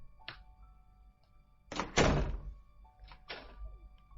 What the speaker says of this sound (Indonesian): Pintu terbuka